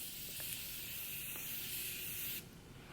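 Makeup setting spray comes from a bottle as one close, continuous pump-mist hiss lasting about two and a half seconds, then cuts off abruptly with nothing else heard.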